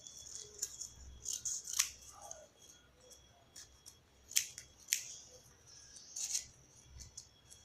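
Scissors cutting newspaper, a quiet close series of sharp, crisp snips and blade clicks at uneven intervals with faint rustling of paper between them.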